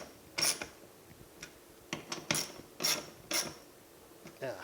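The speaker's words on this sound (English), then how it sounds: "And then we're going to tighten up the bolts," Bolts being tightened on the door window channel of a 1965 Chevelle Malibu SS, heard as a few close, sharp metallic clicks and ratchet-like ticks spaced irregularly over a quiet background.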